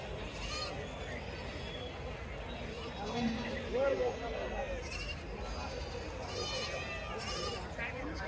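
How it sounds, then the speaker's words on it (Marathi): Young goat kids bleat among a crowd at a busy livestock market. A few short, faint bleats rise over steady chatter and background noise. "ही व्याले शेळ्यांची पिलं आहे"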